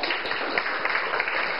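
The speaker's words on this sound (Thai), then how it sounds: "ปรบมือต้อนรับคนหล่อเนี่ยค่ะ" A primary school class in Thailand claps to welcome a student, producing a brief, steady patter of many hands at moderate loudness without any voices.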